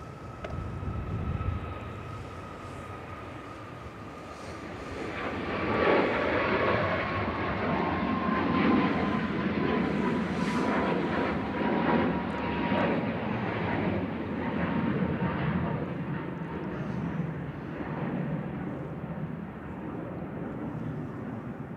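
An Icelandair jet airliner departs Manchester Airport for Reykjavik, its broad engine roar swelling and holding steady at middle distance outdoors, with a faint whining tone drifting slowly downward and birdsong chirps scattered over the rumble.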